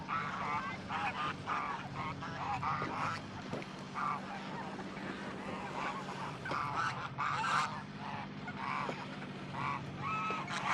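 Turkeys in a field with a chicken tractor call out as honking, gobbling bursts across a dense, continuous chorus of birds, fairly close and loud.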